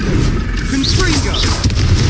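A Confringo fire-blast spell explodes in Hogwarts Legacy, a loud booming burst over dense battle noise, while a voice shouts the spell's name.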